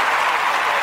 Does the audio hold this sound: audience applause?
yes